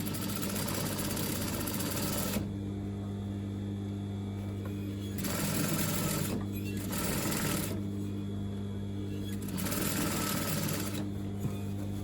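A sewing machine runs in bursts, stitching a pocket seam on a circle skirt along overlocked edges, its steady whirring hum starting and stopping three times with brief quieter pauses between.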